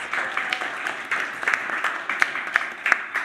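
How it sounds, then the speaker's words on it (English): An audience at an art talk on sustainability and recycling gives steady applause, a dense wash of clapping with a few sharper claps standing out near the end, moderately loud and without speech. "Round of applause"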